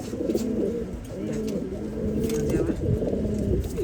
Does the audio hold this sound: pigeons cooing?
yes